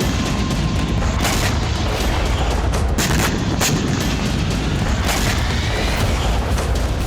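Continuous dense barrage of bomb and rocket blasts over Belgorod, with loud booms and rumbling explosions overlapping in a heavy, unbroken wall of noise throughout.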